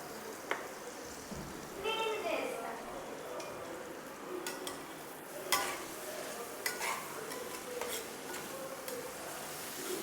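A spoon stirs a sizzling pulao mixture in a pan after mint paste and coriander go in. The stirring gives soft scraping strokes and the odd clink over a steady fry, and a voice speaks briefly partway through.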